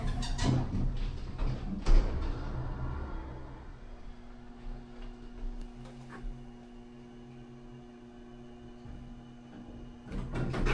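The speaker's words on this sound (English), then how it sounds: "Door close button works." An older Payne hydraulic elevator door at Provincetown Town Hall in Massachusetts rolls shut with a sliding rumble and thump, followed by a steady low machine hum at moderate distance, with no one talking.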